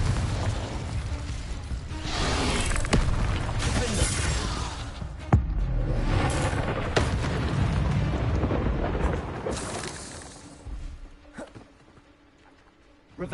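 Confringo blasting-curse explosions in Hogwarts Legacy: a run of loud, rumbling blasts with sharp cracks, sustained over about ten seconds before fading away.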